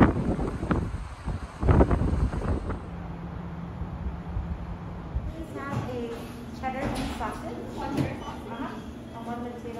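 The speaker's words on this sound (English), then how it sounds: "it's a little bit windy and it's starting to sprinkle" Gusty wind buffets the microphone outdoors in Las Vegas with low rumbling noise while people talk nearby, as light rain begins.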